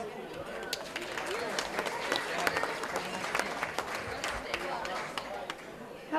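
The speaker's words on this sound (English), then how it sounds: "A round of applause for our maid of honors." Wedding reception guests applaud the maids of honor before the speeches, a moderate patter of clapping mixed with crowd chatter in a room, fairly distant and steady.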